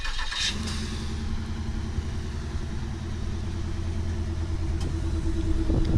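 A Chevrolet Monte Carlo SS V8 engine catches after a short starter burst, then settles into a steady, close, low rumbling idle with no talk.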